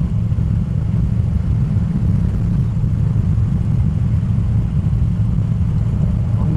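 Moto Guzzi Breva motorcycle engine burbling low and steady while cruising gently in high gear, a continuous deep rumble mixed with wind noise, close and loud.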